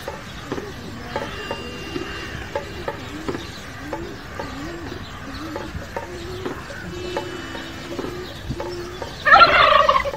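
Birds call outdoors in a steady series of short, chirping and warbling notes, with a brief louder rustle near the end.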